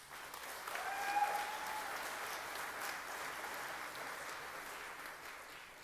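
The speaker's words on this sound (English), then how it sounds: "Congratulations, Sarah Allen. Let's give her a round of applause." Audience applause at a 2018 FFA banquet for Sarah Allen, a steady, fairly distant wash of clapping that holds evenly for several seconds with a faint tone ringing over it early on.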